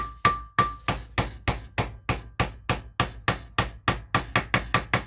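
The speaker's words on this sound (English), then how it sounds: "So now we tap it in. Tap, tap, tap, tap, tap, tap, tap" A hammer taps a part into its socket on a Classic Mini SPI inlet manifold, with about twenty sharp, evenly spaced blows that gradually quicken, close and alone.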